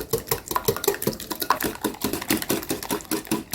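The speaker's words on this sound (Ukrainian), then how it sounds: "Додаємо 75 грамів цукру і разом все взбиваємо вінчиком." A wire whisk beats sugar into pancake batter for a chocolate crepe cake, a fast steady run of light clinking strokes against the bowl, close and continuous with no voices.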